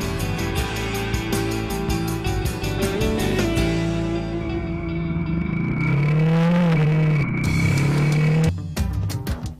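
A Honda CB500 F motorcycle's inline twin engine revs and pulls through the gears, its pitch climbing and dropping repeatedly, loud and close throughout.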